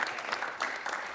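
Applause from the audience at a youth green hydrogen assembly session, a short steady burst of clapping at moderate level with no talk over it.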